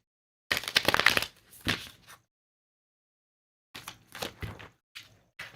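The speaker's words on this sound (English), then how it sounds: "One more shuffle." Tarot cards are shuffled close up in two short bursts of riffling and brushing separated by a silent gap, with light taps and slides at the end.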